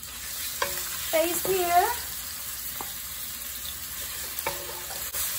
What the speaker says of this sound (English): Now that my oil is hot already, I'm gonna saute my garlic and shallot